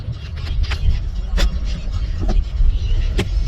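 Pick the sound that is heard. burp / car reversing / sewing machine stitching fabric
car reversing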